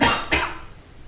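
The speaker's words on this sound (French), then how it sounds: "je tousse encore un tout petit peu" A single person coughs twice up close, a sharp burst at the start and a second shorter one about a third of a second later, then quiet breathy fade.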